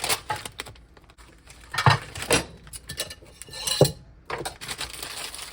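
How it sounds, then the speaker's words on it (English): A knife cuts up pepperoni on a board in a home kitchen, with a handful of sharp clicks and taps spaced unevenly and close up over low background noise. "I'm gonna cut up some pepperonis"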